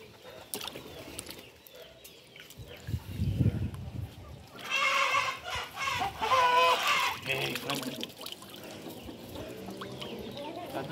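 A young chicken clucks and squawks in short bursts during a bath day at a poultry breeder's, near and fairly loud, with splashing water and someone talking nearby.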